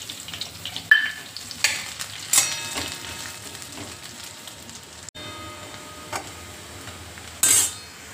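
Onion frying in a pan for a vegetable dalcha: a steady close sizzle with intermittent clinks of a spoon against the pan and a few brighter flare-ups.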